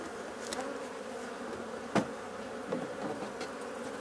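Honeybees buzz in a steady, dense drone around a beehive during honey harvest, with a couple of brief knocks and taps cutting through the hum.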